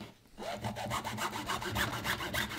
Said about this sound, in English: So we'll just chop that open with a saw.